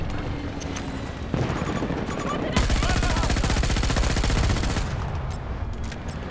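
Suppressed MTAR rifle fire in a first-person shooter, rapid automatic bursts that start quietly, then swell into a dense, loud sustained stream of muffled shots before tapering off.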